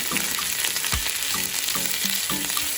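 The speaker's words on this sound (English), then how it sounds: "going to start off by sauteing the garlic until it's fragrant, a little translucent, not overcooked" Garlic and onions sauté in a pan with a loud, dense sizzle up close, overlaid by repeated stirring scrapes and clattering utensil taps in an uneven rhythm.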